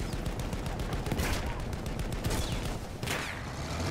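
Battlefield 1 gunfire in a dense, close, continuous barrage of shots, with a few sharper bursts standing out against the steady roar of battle.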